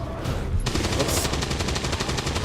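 Gunfire from the video game XCOM: a rapid, steady burst of automatic shots starts after a brief pause and rattles on at an even rhythm, loud and close.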